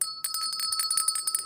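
A bell rings in a rapid, bright series of repeated strikes with sustained high tones, clear and close, with no voices over it.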